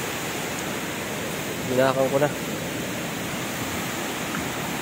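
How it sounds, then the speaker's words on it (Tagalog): Floodwater from Typhoon Aghon rushes in a steady, loud broadband roar, while someone briefly speaks over it midway. "Talagang pagkalaki ng tubig."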